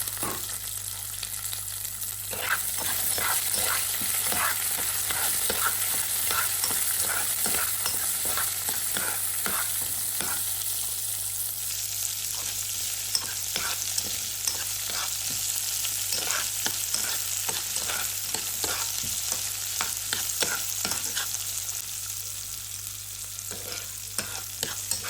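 Garlic fries in a hot pan for Batticaloa-style milakuthani kulampu, a steady close sizzle broken by frequent scraping clicks of a spoon stirring throughout.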